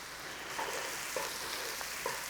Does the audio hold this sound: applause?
no